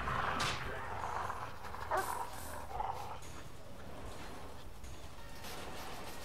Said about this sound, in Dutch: Die nemen de hond erbij.